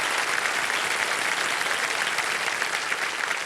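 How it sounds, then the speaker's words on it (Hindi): Studio audience on the quiz show Kaun Banega Crorepati applauding a contestant, dense continuous clapping filling the room at full volume. "और ताली बज जाए एक बार इनके लिए।"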